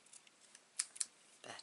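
Scissors snip a paper card while it is trimmed during cardmaking, two crisp close cuts a moment apart amid quiet rustling, followed by a short paper shuffle, faint and alone.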